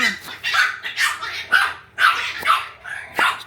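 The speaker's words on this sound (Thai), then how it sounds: "หมามันก็เห่าดังเลยนะ" A dog barks repeatedly in short, loud bursts, roughly two per second, fairly close, with a faint low hum in the background.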